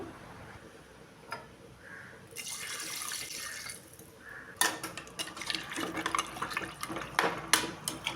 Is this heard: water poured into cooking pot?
yes